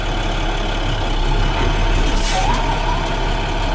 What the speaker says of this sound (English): I'm gonna let it roll for 4 feet and I'm gonna apply my service brake